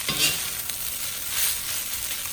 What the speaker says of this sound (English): Breaking up all the crab meat so that it's in the rice